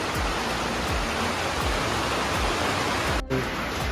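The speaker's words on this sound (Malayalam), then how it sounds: "ഇപ്പോൾ ഇത്തിരി ശക്തമായിട്ട് മഴ പെയ്യുകയാണ്" Heavy rain pours down near Khobar in Rakah, Saudi Arabia, seen from under a shed, a dense, even roar of water with soft rhythmic thuds of drops striking nearby, loud and continuous throughout.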